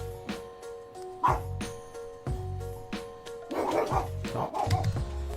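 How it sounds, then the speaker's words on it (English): Dogs bark repeatedly at close range in an irregular string of sharp woofs, some higher yips mixed in. "I don't know what my dogs are barking at."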